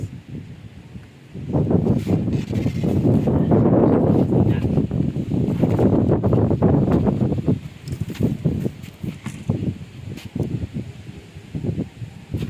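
Strong wind gusting around a tall monopole antenna tower, a loud sustained roar of buffeting with rustling that swells and eases across the whole stretch, close to the microphone.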